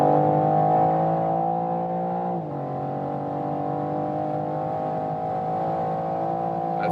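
A BMW M4 coupe at full throttle from high highway speed, its engine a loud, sustained harmonic roar heard from inside the cabin, holding steady with a brief dip partway through, like a gear change, before pulling on.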